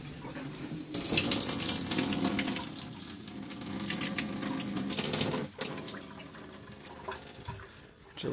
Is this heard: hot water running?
yes